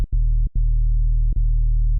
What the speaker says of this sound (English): for the sub, this is just a sine wave with some harmonics